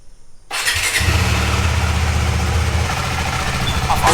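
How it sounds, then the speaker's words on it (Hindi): A motorcycle is cold started: after a short quiet moment the engine catches abruptly and settles into a loud, steady idle close by. "बाकी तब तक कोल्ड स्टार्ट कर देता हूँ बाइक को"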